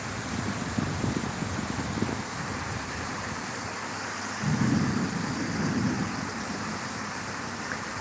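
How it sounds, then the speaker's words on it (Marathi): Heavy rain hisses steadily in Solapur while low thunder rumbles roll through, one early and another swelling midway, with wind buffeting the microphone and no voices. "सोलापूरला खूप पाऊस चालू आहे सध्या"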